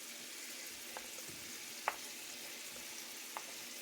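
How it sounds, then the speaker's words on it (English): Onion sautés in a pan alongside fragrant garlic, a soft, low sizzle with a few faint ticks and one sharper clink, quiet and without talk. "And we will saute this onion."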